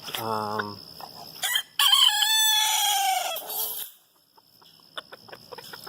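Black Wyandotte cockerels, 2018 birds newly caged, give a loud nearby crow with a long drawn-out call and several shorter clucks and squawks around it, followed by quieter scattered clucking.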